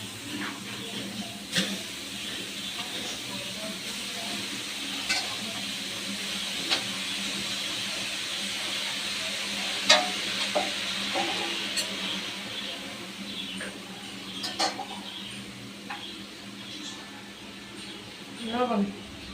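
Red amaranth leaves frying with shrimp, green chili and onion give off a steady, soft steamy hiss with scattered small crackles and a faint voice in the background.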